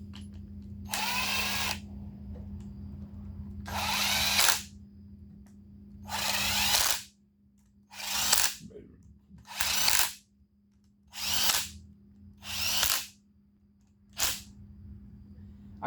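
A cheap power driver tightens oil pump bolts on a Geo engine being assembled, running in about eight short whirring bursts of a second or so each, close and fairly loud over a low steady hum.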